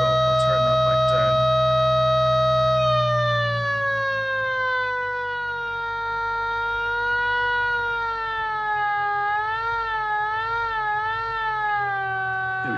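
A homemade motor-driven siren, its speed set by a crude DIY VFD controller, wails loud and high-pitched, its tone sagging slightly and then wavering as the motor is revved.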